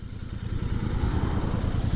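A Royal Enfield Bear 650 scrambler motorcycle's engine idles close by in second gear, a steady, low, throbbing pulse with faint mechanical clatter, heard alone without voices.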